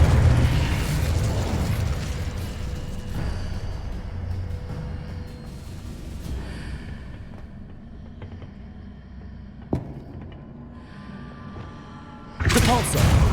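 Incendio fire spell cast in Hogwarts Legacy: a loud rushing, roaring burst of flame that slowly fades over several seconds, with a sharp crack near the end and a fresh whooshing burst at the close.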